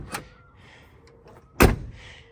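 An old Ford OBS pickup truck door swings and shuts with one solid, heavy thud after a lighter click, close to the microphone, with no talk.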